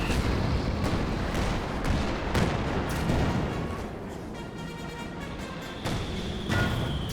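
In Company of Heroes 2, several sharp tank cannon blasts and heavy impacts ring out in quick succession, with metallic clangs of shells bouncing off armor amid ongoing battle noise.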